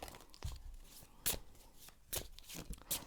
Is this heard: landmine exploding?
no